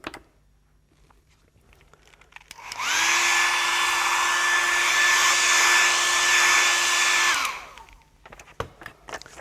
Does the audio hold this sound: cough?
no